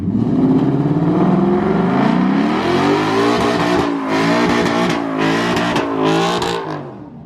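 A Procharged Hemi car roars through a burnout, its engine revving hard and loud at close range for several seconds, with rising and falling pitch and a broad, continuous rush from the spinning tires.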